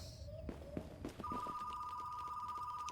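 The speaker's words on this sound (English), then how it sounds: "And the phone starts ringing as I do this." A telephone in the Retro Rewind video game begins ringing after a few soft taps, a steady sustained electronic ring tone that holds on continuously, fairly quiet.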